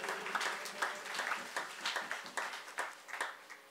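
Applause from a congregation in church, brisk rhythmic clapping carrying on evenly throughout, moderately loud with a roomy quality.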